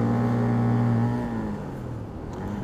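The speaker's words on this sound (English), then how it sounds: "it sounds really quiet, that scooter exhaust." A scooter engine runs steadily with a quiet, low exhaust drone, then drops in pitch and settles to a quieter idle. Fairly close, no talking.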